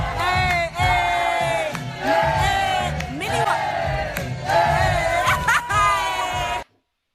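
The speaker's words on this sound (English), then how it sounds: "there's a sound effect for cheering me on" A large crowd cheers loudly, with whoops, shouts and yells rising and falling in waves for several seconds before cutting off into silence.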